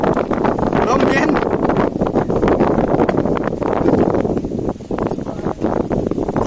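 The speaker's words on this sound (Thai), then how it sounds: "ลมเย็น" A cold, dry wind blows outdoors at a site where solar panels and a 1 HP 750 W submersible water pump are being installed. It makes a steady, loud roar with heavy buffeting against the microphone.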